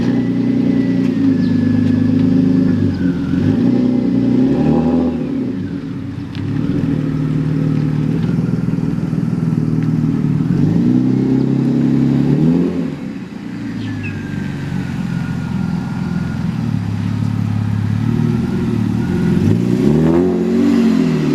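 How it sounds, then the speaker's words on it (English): A loud car engine at a car meet revs repeatedly, rising and falling in several long surges with a deep, rumbling tone close by. "Listen to how loud his car is."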